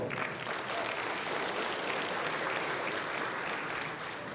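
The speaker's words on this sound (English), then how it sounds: "Give a round of applause." Steady clapping from an audience at a chamber of commerce community celebration fills the whole clip, an even, moderately quiet applause with no voices over it.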